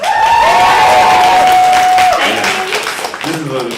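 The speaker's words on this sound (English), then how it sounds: "How about a round of applause for Allison?" An audience at a convention poetry slam applauding a poet, a loud dense wash of clapping and cheering that tapers slightly toward the end, with a voice briefly audible over it.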